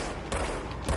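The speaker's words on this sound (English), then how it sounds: "Shooting shit at me." Enemy gunfire in the video game Control: a dense, rough burst of shots that swells twice within a second over a noisy backdrop.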